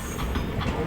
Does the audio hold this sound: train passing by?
yes